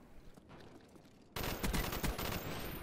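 Assault rifle fire in a video game breaks out loud and sudden after a quieter stretch of faint distant shots, continuing as a dense rattling burst to the end.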